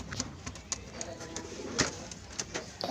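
Newly bought pigeons cooing at fairly close range, with soft repeated coos, some short sharper calls, and a low murmur of background noise throughout.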